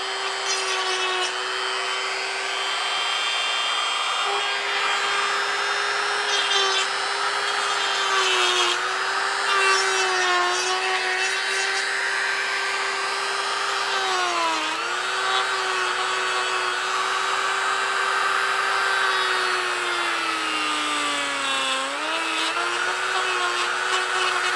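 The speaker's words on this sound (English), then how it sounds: "Now we can turn the Dremel back on." A Dremel rotary tool grinds and smooths a cast African wildcat skull around the socket of the zygomatic bone, a continuous high whine that dips in pitch as the bit bears down, loud and close throughout.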